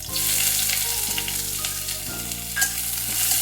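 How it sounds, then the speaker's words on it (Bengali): Chopped onion sizzles steadily in hot oil in a pan for a bitter-gourd curry, with a continuous bright crackle and occasional stirring scrapes, close and fairly loud with no talking. "পেঁয়াজ কুচিটা একটু ভালো করে ভেজে নিচ্ছি"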